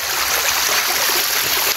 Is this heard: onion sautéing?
no